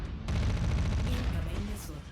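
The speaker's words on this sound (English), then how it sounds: "An Atlas that is currently taking a hell of a lot of LRM fire." Rapid LRM missile fire pounding a mech in a BattleTech-style mech combat video game: a dense, loud barrage of rumbling impacts and rattling explosions lasting about two seconds.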